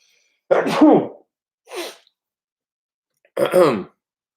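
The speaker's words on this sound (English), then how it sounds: "I got a sneeze brewing." A loud, close sneeze followed by a smaller sniff or throat sound and then a second forceful sneeze after a pause.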